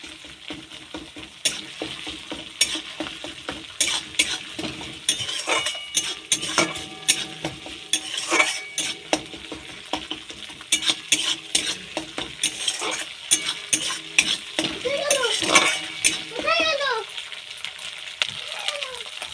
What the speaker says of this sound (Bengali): আদা কাঁচা লঙ্কা বাটা দিয়ে ভালো করে কষিয়ে নেব